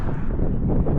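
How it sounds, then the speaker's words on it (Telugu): Wind on a mountain road in Mongolia, a loud, steady rumbling buffet of gusts blowing across the microphone, brief and unbroken, with no voices. "గాలి వస్తుంది."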